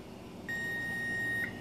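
A kitchen timer sounds a single steady electronic beep lasting about a second, clear but moderate in level over faint room noise, while yellow squash blanches in hot water for canning.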